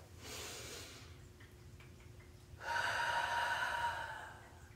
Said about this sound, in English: Let's all take a deep breath.